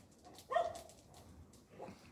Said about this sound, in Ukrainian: собака, дивіться